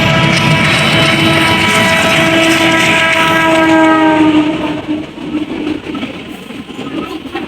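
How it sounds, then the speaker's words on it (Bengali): A train passes under a flyover bridge, its horn blaring loud and sustained for about four seconds over a heavy rolling rumble, then the horn stops and the clattering rumble continues more softly. "আর বলতে না বলতেই সেইখান থেকে ট্রেন চলে এসেছে।"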